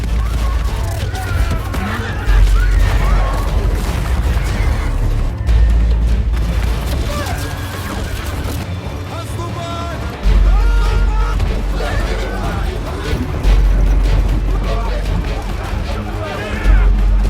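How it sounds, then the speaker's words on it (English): Gunfire volley in a historical drama battle scene as cavalry is routed, heavy booming shots and crashes layered over dense music and noise throughout. "At a commander's order, gunshots rang out, and Nikolai's cavalry was instantly routed,"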